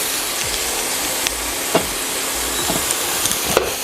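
Meatballs of even size browning in a pan over medium heat give a steady close sizzle and hiss, with a few brief louder crackles and pops scattered through.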